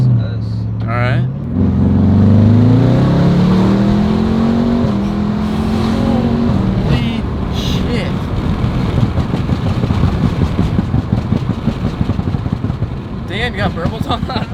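A 900hp BMW M550 E50 with methanol injection accelerates, its engine rising in a loud climbing roar, then settles into a long stretch of crackling, popping exhaust burbles, with voices talking over it.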